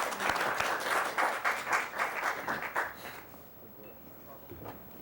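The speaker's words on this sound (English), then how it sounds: "Yeah, you can clap for Jim." A crowd applauds for a few seconds, then the clapping thins out and fades into quiet room noise.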